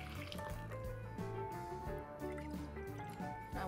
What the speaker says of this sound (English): Now we add in our water.